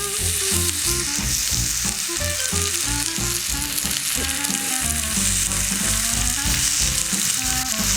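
Wagyu beef sizzles in a hot cast-iron sukiyaki pot over caramelized sugar, a loud continuous frying hiss mixed with the clatter of stirring, close up and without speech.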